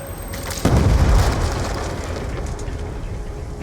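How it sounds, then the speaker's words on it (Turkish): A cluster bomb detonates in Call of Duty Black Ops II, a single loud, deep boom that rolls into a long, crackling, rain-like spray of debris fading under steady noise. "misket patlayıcı bombaymış bu"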